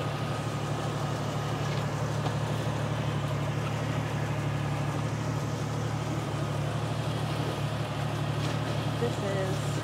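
A 14.5 CFM four-cylinder air compressor runs steadily, a loud, unbroken mechanical hum with a deep drone that holds for the whole stretch, with talk partly buried beneath it.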